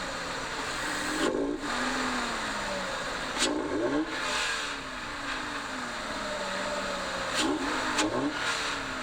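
A Toyota GR86 or Subaru BRZ with an aftermarket cold air intake, the engine idling then blipped in several sharp revs that rise and fall back, heard fairly close with a steady intake hum between them.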